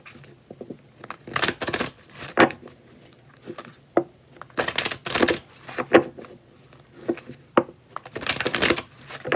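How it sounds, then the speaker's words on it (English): Repeated bursts of crisp paper-like riffling, tarot cards being shuffled in quick clusters with short pauses between, close and fairly quiet. "my hands are sore from shuffling all day"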